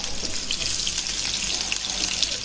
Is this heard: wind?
no